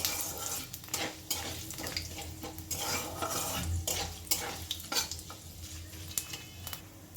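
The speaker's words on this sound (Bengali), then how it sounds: "ফোড়নটা খুব ভালো করে একটু নাড়াচাড়া করে নেব।" Panch phoron (five spices) sizzles in hot oil for labra while a spoon stirs and scrapes against the pan, with irregular clinks over a steady, close frying hiss.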